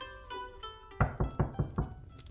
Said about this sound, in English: The day was just about to start, until I heard a knock at the door.